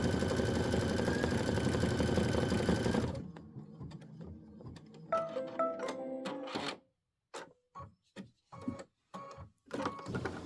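Aveneer embroidery machine stitching a Boo Manor tile: a dense, steady run of rapid needle strikes for about three seconds, then quieter, broken bursts of stitching and clicks separated by short pauses.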